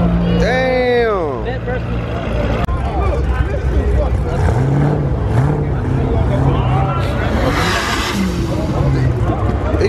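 Turbocharged car racing past at a track, a loud engine roar that swells and sweeps by, then keeps revving through the rest of the pass, with excited talk from onlookers throughout.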